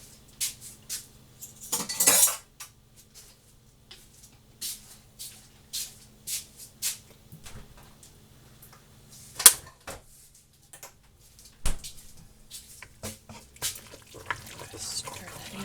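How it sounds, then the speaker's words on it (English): A spoon stirring lemon juice into homemade strawberry jam for canning, heard as faint scattered clinks and scrapes of metal against a pot, coming in irregular bursts with quiet gaps between. "Stir that in"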